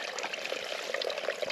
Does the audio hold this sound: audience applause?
no